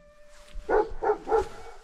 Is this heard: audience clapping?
no